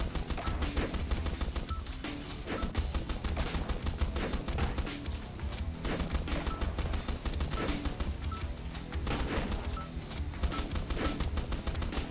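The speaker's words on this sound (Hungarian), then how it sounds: "Elkezdenek lövöldözni az enemik." Enemies firing guns in the Swarm Grinder game, a continuous dense barrage of rapid gunshots and impacts over twelve seconds at steady high loudness, with no pauses.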